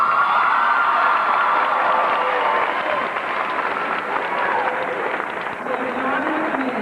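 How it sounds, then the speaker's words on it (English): Sustained applause from a graduation ceremony audience in a large hall, a dense continuous wash of clapping that stays loud throughout and mixes with some crowd noise. "So join the committee in applauding our distinguished guests and friends again."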